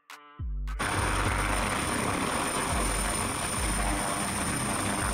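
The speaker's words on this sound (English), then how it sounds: "Utility helicopter, multi-purpose helicopter." A utility helicopter flies close by, its rotor beating in a steady low thump under a loud broadband engine roar and a high turbine whine, with no one talking.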